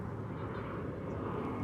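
A plane landing at Dallas/Fort Worth Airport gives a steady, low, rumbling jet roar, heard from a distance and faint, with no clear change over the short stretch.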